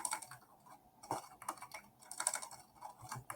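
Rapid clicking of a computer keyboard, close and steady, with uneven bursts of keystrokes and no voices.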